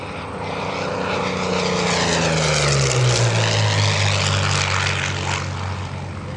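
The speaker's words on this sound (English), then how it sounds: "here he comes. Hot, low and fast, Thom Richard, the P-40" A P-40 Warhawk propeller fighter makes a hot, low, fast airshow pass, its engine roar swelling in and falling away with a clear pitch drop as it passes close overhead.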